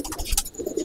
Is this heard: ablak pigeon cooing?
yes